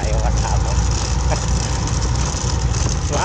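A motorcycle engine drones steadily at close range, a loud continuous low rumble with a voice talking over it.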